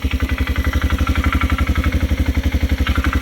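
A Polaris ATV engine runs steadily up close with a loud, rapid, even rhythmic chug and a rattly clatter from a bad, noisy clutch layered over the idle.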